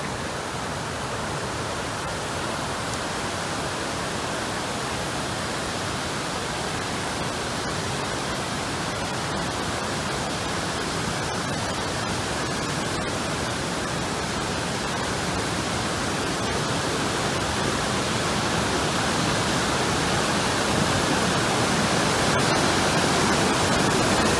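Rushing water of Deception Creek on a forest trail in the Dosewallips area, a loud, steady broadband roar close by that continues unbroken and swells slightly toward the end, with no voices.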